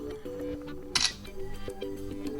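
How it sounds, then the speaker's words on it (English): A Realme C35 phone camera shutter fires once as a single short, crisp click, heard alone over a steady tonal background. "when you click one of them, for example volume up, you can simply take photos"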